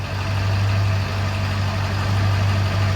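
Car engine idling steadily after an injector replacement, running without a proper tune, a low even drone with a strong bass hum and no revving, close by with no talking.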